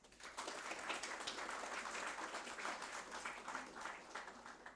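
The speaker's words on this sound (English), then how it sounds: "Please join me in welcoming our distinguished panelists here with a warm round of applause." Dense, continuous audience applause welcoming panelists at the inaugural session of a development conference, heard faint and distant for several seconds without a break.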